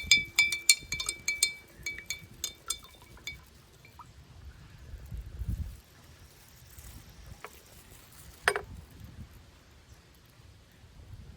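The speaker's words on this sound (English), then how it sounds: "Alrighty, I'm going to stir this up just one more time." A water and vegetable oil mixture stirred in a container: quiet sloshing and swirling liquid with light clinks and taps against the sides, busier at first then settling into softer swishes with an occasional knock.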